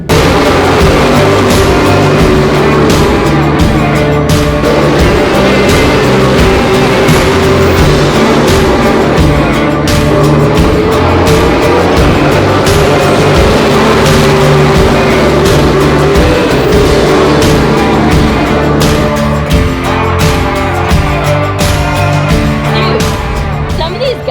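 SRX race cars tear around Knoxville dirt track in a heat race, a loud, continuous engine roar for the whole stretch, rising and falling as cars pass, with crowd and track noise mixed in.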